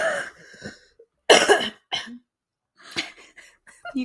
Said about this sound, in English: I'm about to have to cough